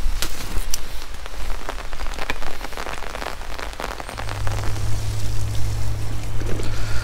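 Steady rain pours down around a traveller on a multi-day e-bike tour between Collenberg and Hattenheim along the Main and Rhine, a dense continuous hiss with scattered sharper drop hits and a low rumble, no voices.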